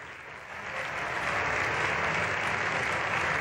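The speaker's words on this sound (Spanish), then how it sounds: "Es el aplauso con el que los socialistas recibían y se ponían en pie a la llegada del presidente del gobierno, Pedro Sánchez" Socialist deputies in the Spanish Congress applaud Prime Minister Pedro Sánchez on his arrival, rising to their feet; dense, sustained clapping from a large chamber crowd swells slightly and holds steady throughout.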